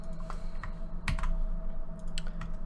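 Quick bursts of typing on a computer keyboard, with uneven key clicks and one louder thump midway, over a low steady background hum.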